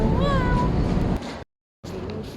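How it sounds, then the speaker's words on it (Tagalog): A cat meows inside a shopping mall, one clear drawn-out rising-and-falling meow up close over a busy indoor murmur, then a brief silence before the crowd noise returns. "Nakakita naman ako pusa. Ayan, pati pusa, nag-mall na rin"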